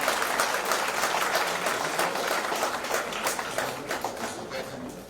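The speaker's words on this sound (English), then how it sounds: "a big round of applause for Mona Lisa" Audience at a public gathering in Kolkata applauds in a dense, steady round of clapping that carries loudly through the whole stretch and tapers slightly at the end.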